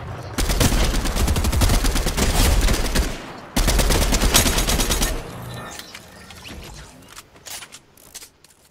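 Rapid automatic gunfire in the battle game Fortnite, long dense bursts of shots with a brief gap between them, then tapering into scattered quieter pops and movement sounds.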